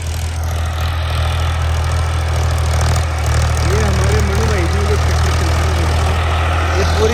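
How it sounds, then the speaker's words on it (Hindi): A farm tractor runs on a field during sowing in a village, its deep steady engine drone constant and loud throughout, with someone talking over it. "ये ट्रैक्टर चलते हैं, यहाँ पे बिजाई हो रही है"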